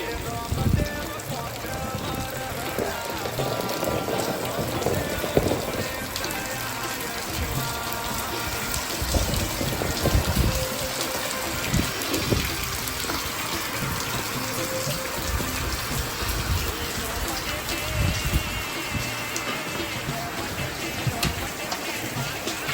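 Heavy rain driven by wind pours down steadily across a village, a dense and continuous roar of drops on surfaces, loud and close throughout.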